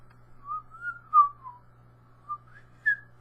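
Melodic human whistling, several rising and falling phrases with short pauses between them, fairly clear and alone over a faint steady low hum.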